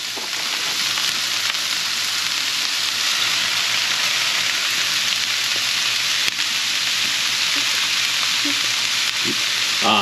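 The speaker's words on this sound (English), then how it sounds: "once the onions and the celery are going here, I have it over a medium heat" Onion and celery frying in one to two tablespoons of olive oil in a pot over medium heat, a steady, close, even sizzle with occasional faint clinks of stirring and no voices.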